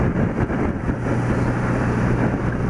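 Strong wind buffets a microphone while an old motorcycle is ridden, a continuous heavy rumble with steady low engine drone underneath, loud and unbroken throughout.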